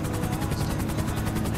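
A helicopter in the video game GTA 5 Online whirs loud and close with a fast, regular rotor chop that stays steady throughout, alone with no talk over it.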